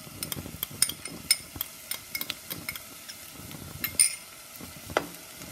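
Garlic sautéing in a pan for meat croquettes, with a soft steady sizzle under repeated scraping and stirring clatter of a utensil against the pan, close and moderately quiet.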